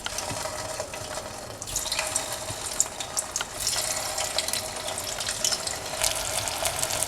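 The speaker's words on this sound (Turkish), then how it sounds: "Yağımız iyice kızdıktan sonra hazırladığımız içli köfteleri atıyoruz." Bulgur-shelled stuffed meatballs dropped into a pan of hot vegetable oil, giving a continuous bright sizzle and crackle with louder spitting bursts partway through.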